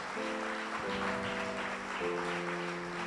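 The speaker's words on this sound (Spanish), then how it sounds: "Dale un aplauso a Dios si lo creen esta mañana." A church congregation applauds during a Sunday sermon, a steady wash of clapping running the whole time beneath sustained keyboard chords that shift in pitch. The sound is moderately quiet and even, with no speech.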